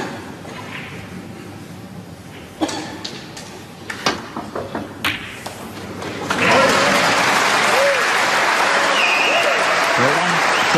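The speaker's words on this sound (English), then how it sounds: "He's getting some applause, but Mark King has got a shot to nothing red" Crowd applause at the 2017 German Masters snooker match between Mark King and Ronnie O'Sullivan: sharp ball clicks and a quiet arena first, then loud, sustained clapping swells up over the second half under a commentator's voice.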